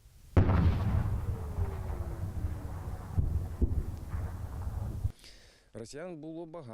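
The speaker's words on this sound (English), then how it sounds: "The front is so close that you can hear the shells flying almost overhead" Artillery shells whistle overhead close to the front line at Robotyne, one descending whine cutting through gusty wind and dull booms, before a voice speaks briefly at the end.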